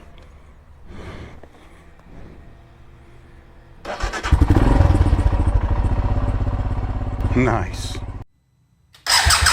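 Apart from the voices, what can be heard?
Royal Enfield Himalayan motorcycle engine starting and idling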